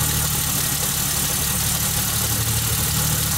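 A car fitted with a standalone ECU idles just after starting, a steady low rumbling engine drone holding an even pitch throughout, close and fairly loud with no talking.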